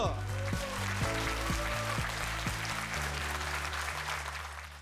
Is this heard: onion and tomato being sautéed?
no